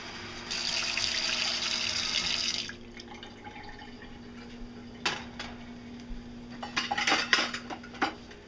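Water runs from a tap into a pot for cooking oatmeal, a steady rushing stream for a couple of seconds, then faint clinks of cutlery and pans in a quiet home kitchen.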